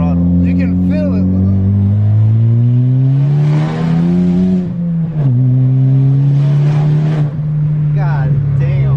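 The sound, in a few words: big-turbo tuned car accelerating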